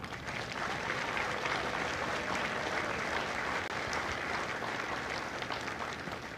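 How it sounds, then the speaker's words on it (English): Audience applause at a Marine Corps recruit graduation at MCRD San Diego, dense sustained clapping from a large crowd, loud and even throughout with no speech over it. "Ladies and gentlemen, a round of applause for the God's Company family."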